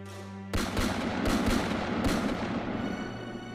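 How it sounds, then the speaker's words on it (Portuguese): Several loud gunshots ring out from outside a farm at night, sharp bangs at irregular intervals over a sustained noisy rumble, with no speech. "ouço diversos barulhos de tiros vindo de fora da fazenda"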